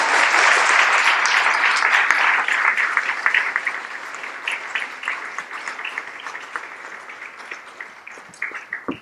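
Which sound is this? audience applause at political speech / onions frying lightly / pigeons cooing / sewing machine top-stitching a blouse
audience applause at political speech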